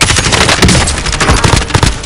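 Rapid, loud bursts of close automatic gunfire in Warzone, dense overlapping shots with sharp transients throughout, no talk.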